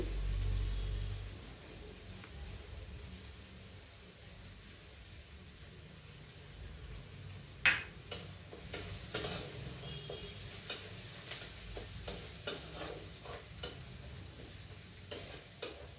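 Garlic and chopped coriander sautéing in a pan for a urad dal soup, a low steady sizzle at first, then a run of sharp scraping stirs and clicks from about the midpoint, with no talking.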